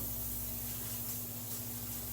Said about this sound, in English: I give them a good spray of Pam